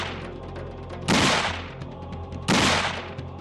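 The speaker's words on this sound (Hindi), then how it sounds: "गोडसे ने अचानक पिस्तौल का घोड़ा दबा दिया।" Two sharp pistol gunshots ring out about a second and a half apart, each a loud bright crack with a short decaying tail, over a low background.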